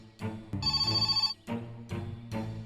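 A telephone rings in bursts, a bright electronic trill pulsing for close to a second, followed by shorter buzzy tones, loud and near with no talking.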